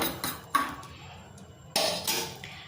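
A spice mix dry roasts in a pan for chicken curry, with sharp metallic scrapes and clinks of a spoon against the pan in short bursts separated by quiet gaps.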